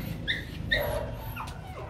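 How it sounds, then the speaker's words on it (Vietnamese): A lively Rottweiler puppy whimpers in thin, high whines, a few short cries in a row, close by over a low background hum. "cái con chó rất là hiếu động"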